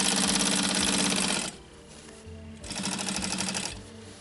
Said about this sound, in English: So I stitch all the way back to this point here, and then I'll just anchor it